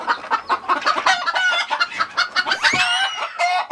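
Agitated hens clucking loudly and continuously near a coop, a dense overlapping chorus of harsh squawks and cackles with a rooster-like call rising near the end.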